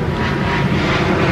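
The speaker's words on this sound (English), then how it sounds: "You hear an airplane?" An airplane passes overhead, producing a loud, steady, broadband engine roar that fills the whole moment. No voices are heard.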